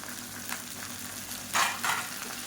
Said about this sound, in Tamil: இப்போ எல்லாமே நல்லா வதங்கட்டும்